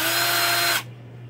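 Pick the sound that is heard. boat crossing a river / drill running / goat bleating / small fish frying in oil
drill running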